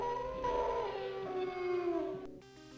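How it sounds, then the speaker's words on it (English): Wolves howl in a dungeon in The Elder Scrolls: Arena, long overlapping tonal howls that waver and slide downward, fairly loud, then cut off abruptly near the end as a harsher buzzing tone takes over. "This dungeon is full of wolves."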